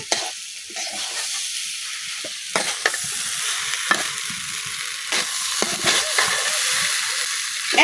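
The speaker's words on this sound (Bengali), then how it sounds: "এখন আমি খুঁটটা পেঁয়াজ মরিচের সাথে ভালোভাবে মিশিয়ে নিতেছি" Broken rice is stirred with onion and chili in a hot frying pan, a steady sizzle and hiss with repeated scraping strokes of the spoon running close and fairly loud throughout, no voices.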